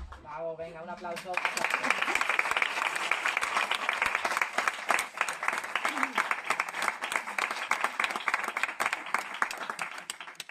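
Audience applause at a short-film festival award ceremony in Madrid, steady dense clapping lasting about nine seconds after a brief spoken introduction.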